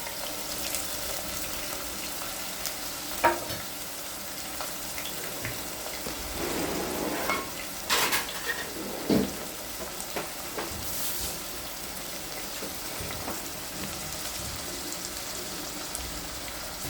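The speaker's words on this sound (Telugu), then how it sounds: "ఇట్లా ఆయిల్లో ఫ్రై అవ్వనివ్వాలి." Half a kilo of mutton with onions frying in oil for gongura mutton makes a continuous close sizzle, with scattered stirring scrapes and a few louder clatters midway.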